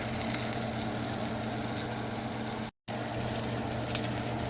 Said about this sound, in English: you're just going to take your tongs and you're going to start shifting the steak around